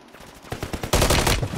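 Rapid gunfire from the video game Call of Duty, a burst of loud close shots that builds into a dense, sustained volley of automatic fire with no talking.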